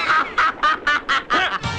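Cartoon bird quacking in a rapid series of about seven loud, nasal quacks, close and clear, from a 1990 animated series, Samurai Pizza Cats, with no talk over it.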